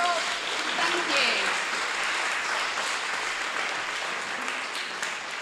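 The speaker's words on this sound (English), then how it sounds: "Big round of applause for Rob." A big round of applause for a speaker at a talk about prisons, a steady, rain-like wash of many hands clapping that fills the whole stretch at an even level, with a faint voice underneath.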